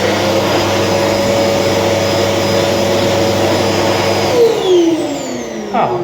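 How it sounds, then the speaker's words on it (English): A black World Dryer Air Force hand dryer in a disabled restroom blasts a loud, steady airflow roar at close range, then spins down with a falling whine near the end. "which has a black World Dryer Air Force"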